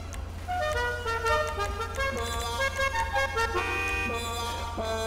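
A melodic electronic car horn in GTA 5 plays a tune of sustained tones, alone and moderately loud over a steady low engine drone.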